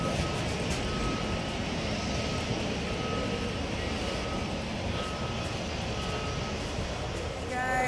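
Steady airliner cabin drone on a flight to Los Angeles, a loud continuous broadband roar of the engines with a faint repeating tone, some voices murmuring beneath it.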